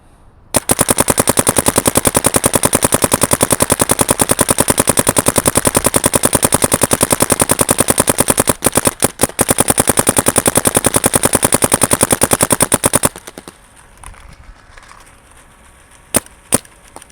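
A Dye M3+ paintball gun fires a long, rapid, evenly spaced stream of sharp pops for about twelve seconds. After a near-silent pause, a couple of isolated shots follow.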